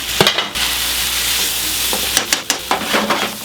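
Aglio e olio pasta, garlic and olive oil with parmesan, tossed and stirred in a hot pan, giving a steady close sizzle with several sharp scraping and clattering strokes toward the end.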